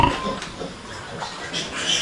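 Pigs grunt and oink on a small pig farm, with short close snorts scattered over a noisy barnyard background.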